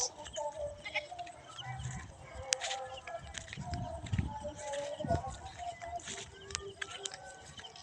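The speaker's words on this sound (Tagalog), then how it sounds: "makuha kami isang kambing namin guys" Goats bleat in a rural farmyard, several rough calls rising over a busy background of shuffling, hoof clatter and nearby voices.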